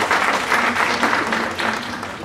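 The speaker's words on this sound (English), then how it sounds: "And let's give them a round of applause for that too." An audience at a college scholarship orientation gives a round of applause, a steady wash of many hands clapping close and fairly loud for the whole short stretch.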